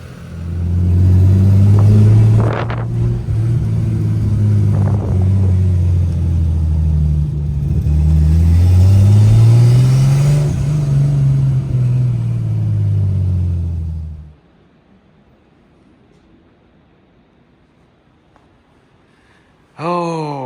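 A turbocharged BMW S52 engine in an E30 touring runs loudly and close, droning and revving up and down for about fourteen seconds before cutting off into near silence, with a brief burst of sound at the very end.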